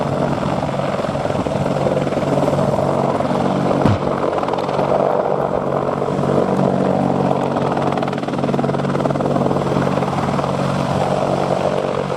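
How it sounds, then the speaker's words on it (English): A British Army Apache attack helicopter's heavy, continuous rotor thrum and turbine whine dominate throughout at an air show, loud and close, with no voices. "British Army Apache attack helicopter."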